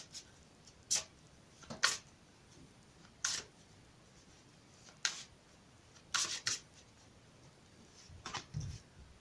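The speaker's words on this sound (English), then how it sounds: "I've already pre-shuffled these cards, but I'll shuffle them again for you on camera" Oracle cards are shuffled in short, crisp bursts separated by quiet pauses, close and fairly soft.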